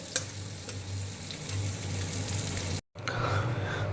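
Paneer frying in oil in a home kitchen, a close, continuous crackling sizzle with faint scraping, broken by a brief silent gap near the end before the sizzle resumes, with no talk.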